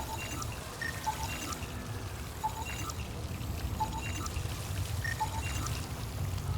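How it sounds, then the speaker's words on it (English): Stasis pods are flushed away in the video game Mass Effect Andromeda with a steady rushing, pouring water-like roar. Faint electronic blips sound over it, and no one talks. "They just literally flushed all the stasis pods down the toilet."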